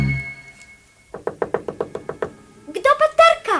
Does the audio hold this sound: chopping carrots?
no